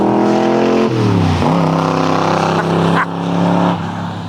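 A 1967 Corvette with a big-block 427 Tri-Power engine roars past in a loud, close flyby, its deep exhaust note sweeping down in pitch as it passes, then the revving rumble carries on steadily.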